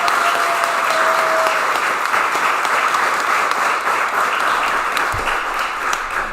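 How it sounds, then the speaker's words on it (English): An audience at a bowling league awards night claps loudly in sustained applause that holds steady throughout, with no voices over it. "So round of applause for Martin."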